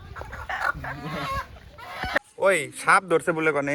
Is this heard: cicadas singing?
no